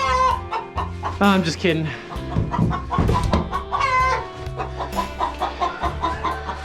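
Chickens cluck repeatedly in a coop during a winter clean-out of deep litter bedding, with close, busy calls and a brief crow-like note, while a person talks over them.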